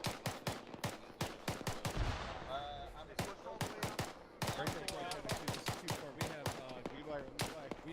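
Enemy troops in a military video game fire a steady run of sharp, close gunshots at an even clip, cracking through voices talking over radio-like chatter.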